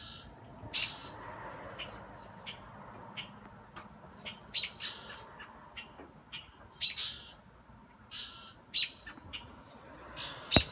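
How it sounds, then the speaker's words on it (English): Several crows call from the trees near a hawk, giving sharp, harsh caws in irregular bursts, some close and loud, others fainter, over quiet outdoor background. "There's all kinds of crows are around."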